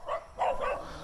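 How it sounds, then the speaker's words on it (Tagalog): A dog barks two or three times nearby, short rough barks standing out over a steady outdoor background with no talk. "May aso eh."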